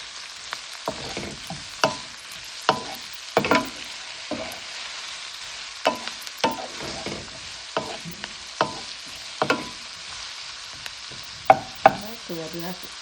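Onion, peppers, scallion, thyme and tomato sautéing in a pan, a soft constant sizzle broken by sharp, regular spoon scrapes and clatters, with no talking.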